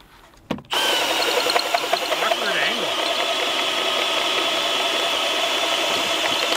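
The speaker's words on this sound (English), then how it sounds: "we've drilled probably 4 or 5 holes with this thing, and it's doing really, really well" Power drill boring post holes while building a sawmill shed, a loud continuous whine starting abruptly after a brief thump and running steadily to the end, with faint voices in the background.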